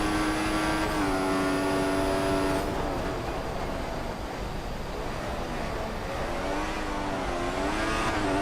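A 2014 Formula 1 car engine in the racing game F1 2014, a loud, sustained high-pitched whine that rises and falls with gear changes and throttle, alone with no talk.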